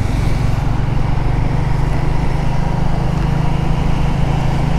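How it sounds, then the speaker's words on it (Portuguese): Royal Enfield Classic 350 motorcycle engine running steadily while riding, a loud, continuous low thumping drone from the single-cylinder motor with wind noise and no talk. "E essa aqui é uma Classic 350, é o mesmo motor que está embarcado na Hunter"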